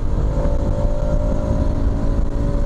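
A Bajaj Pulsar RS 200 BS6 phase 2 motorcycle engine held at speed in a gear top speed test, a steady loud droning roar with a constant tonal whine and wind rush, without voices.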